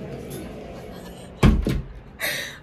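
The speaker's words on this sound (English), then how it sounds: "so let's close the door" A dorm room door at CSUSM swings shut with one sharp, heavy thunk partway through, followed by a short rattle, close by against a quiet room.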